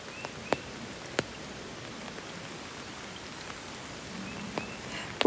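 Spring rain falls steadily in a broad, even hiss, with occasional louder drops striking a surface nearby.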